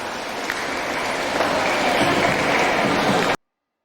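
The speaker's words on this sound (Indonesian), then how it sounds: "Kasih tepuk tangan yang meriah" Audience clapping at a kindergarten graduation ceremony for a Quran school, a steady wash of applause from a crowd that holds evenly for about three seconds and then cuts off.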